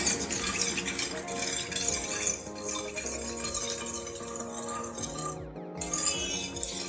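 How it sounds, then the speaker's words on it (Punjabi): Sugar and custard powder being stirred together in a bowl, a steady scraping and clinking of spoon against the bowl that continues throughout with no pauses. "ਹੁਣ ਇਹਨੂੰ ਮੈਂ ਮਿਕਸ ਕਰ ਲਵਾਂਗੀ ਚੰਗੀ ਤਰ੍ਹਾਂ ਕਸਟਰਡ ਪਾਊਡਰ ਪਾ ਕੇ"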